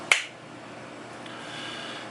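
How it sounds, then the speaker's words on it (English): A single sharp hand clap made to sync recording equipment, heard once near the start and followed by quiet room tone. "I got to clap for sync."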